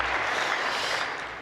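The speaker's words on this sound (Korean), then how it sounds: "오늘도 우리의 힘이 되신 우리 주님 앞에 감사 박수 드리겠습니다." A church congregation clapping at a New Year's Eve service, a continuous broad hiss of many hands at moderate volume that tapers slightly toward the end.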